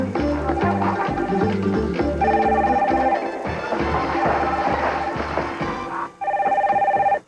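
Telephone ringing in a US West star 69 television commercial, a repeating electronic ring over loud music that fills the clip before a brief dropout.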